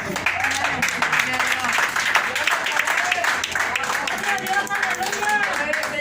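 Church congregation clapping during a sermon, a steady wash of many hands with rhythmic patter, moderately loud, with voices and musical tones sounding beneath the applause.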